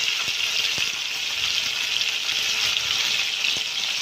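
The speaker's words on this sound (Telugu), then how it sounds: "ఆనియన్, టమాటా 2 ఒకేసారి వేస్తాను నేను." Onions and tomatoes splutter in hot oil in a pan for drumstick sambar, a loud, continuous close sizzle with a few faint knocks and no talk.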